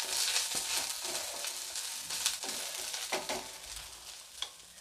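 Chili thecha sautéed in oil gives a soft, close sizzle broken by repeated scraping strokes of a spoon against the pan, quiet and irregular with no voices.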